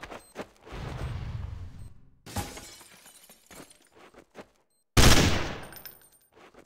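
Gunfire in Counter-Strike: Source: scattered sharp shots and noisy bursts separated by gaps, ending in a sudden loud blast with a crashing, shattering tail.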